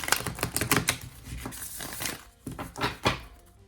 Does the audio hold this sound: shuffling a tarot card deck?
yes